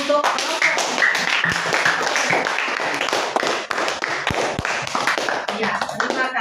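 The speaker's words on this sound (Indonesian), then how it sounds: "kita beri aplaus untuk kelompok" Applause in a classroom for a student group, dense clapping from many hands running steadily throughout, fairly close and continuous.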